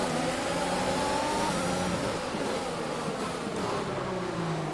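A Williams Formula 1 car at Spa in a racing video game accelerates hard, its engine note rising in a loud, continuous high-pitched whine through the gears, close and steady.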